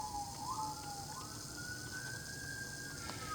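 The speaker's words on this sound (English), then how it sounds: "Oh, you hear those sirens." Emergency vehicle siren wails outside, a distant rising and falling tone that sweeps upward and holds, heard faintly behind steady room noise.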